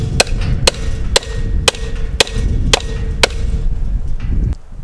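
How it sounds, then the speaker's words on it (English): A steel brace pin is hammered into the cross member of a homestead farm gate, giving seven sharp, evenly spaced metallic strikes about half a second apart, loud and close, with no talking. "What I think I might just do is try and hammer this guy in more"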